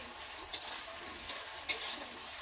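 Meat curry stirred in a wok (kadai) with spices and whole garlic, giving a steady low sizzle with a couple of sharp scraping clinks from the spoon against the pan.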